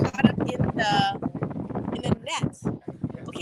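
Strong wind gusts buffet the microphone at a Tahitian pearl farm by the ocean, rumbling in bursts beneath a person talking close by.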